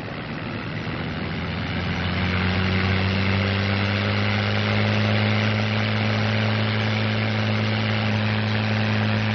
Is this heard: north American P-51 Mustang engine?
yes